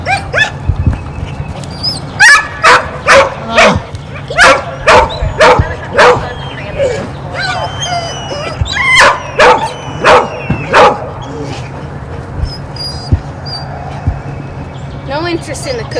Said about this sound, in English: We have some dogs on the other side of the fence.